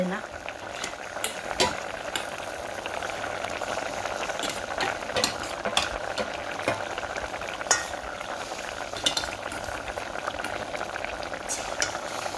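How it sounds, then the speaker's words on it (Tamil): A pot of sudai (sardine) fish curry bubbles and sizzles steadily up close as fish is added and stirred, with scattered utensil clicks and scrapes against the pot. "இங்கே வேறுங்கோ கொதிச்சு வந்துட்டது அப்போ இந்த மீனை போடுவோம்"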